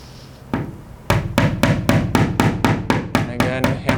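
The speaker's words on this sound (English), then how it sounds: "hammering this in on an angle." A hammer drives nails at an angle into a wall near its base: after one lone strike, a quick run of about a dozen sharp, evenly spaced blows rings out close and loud.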